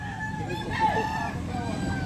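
A young stag rooster crows once, a clear rising and falling call amid the background bustle of a backyard chicken market in Carbon, Cebu, with people talking nearby.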